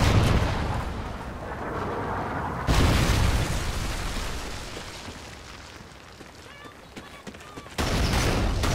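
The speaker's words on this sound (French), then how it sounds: "Triple missile allié en approche." Call of Duty Ghosts match with a triple missile strike: heavy booming explosions and rumbling blasts, loud and dense, with abrupt shifts between intense bursts and quieter stretches, plus faint game voices.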